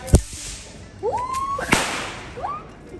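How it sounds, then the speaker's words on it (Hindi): Diwali firecrackers go off in sharp cracking bangs, one early and another about a second and a half later, between rising whistling squeals, close by and loud. "चलो धमाका करें, धमाका ऋषभ की पहली दिवाली की खुशी में।"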